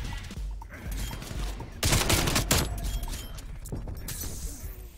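AK-74u gunfire in the video game Call of Duty Black Ops Cold War comes as a dense, continuous rattle of rapid shots mixed with game noise, loudest in the middle, with no talking.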